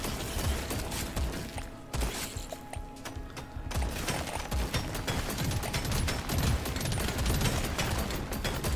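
Rapid, continuous gunfire from weapons in the video game Deep Rock Galactic: Survivor, a dense stream of overlapping shots with mechanical clicks that runs steadily and loudly the whole time.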